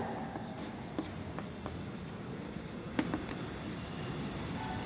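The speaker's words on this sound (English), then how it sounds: "Now draw the line." A pencil draws a line on paper in a quiet setting, a soft continuous scratchy rub with a few faint taps, close and low in level.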